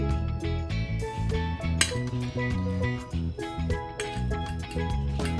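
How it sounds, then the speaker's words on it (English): Minced garlic and shadow benny being mixed in a bowl for Trini chow, with steady clinking and scraping of a utensil against the dish, close and fairly quiet. "now we're gonna mix it together and add some of the scorpion pepper relish"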